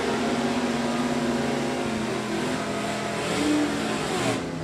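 Stock-class drag race cars launching down a drag strip at a division 3 event, a loud sustained engine roar with rising revving pitch and no speech.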